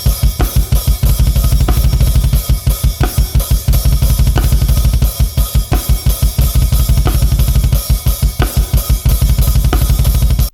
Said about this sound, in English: So then I shorten this one to just 1 bar of eighth notes and then 1 bar of 60-note double bass